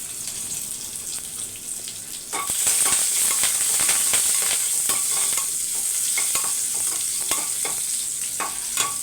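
Garlic cloves, curry leaves and dried red chillies frying in hot oil with mustard and cumin, a loud crackling sizzle that flares up after the first couple of seconds and keeps popping steadily, with no talking.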